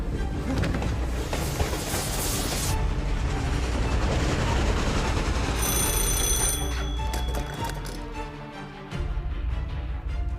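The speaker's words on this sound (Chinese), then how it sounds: "火车没停？" A train rushes past without stopping, a loud rumbling clatter with a ringing bell tone, easing off near the end as bright metallic tones ring out over the fading roar.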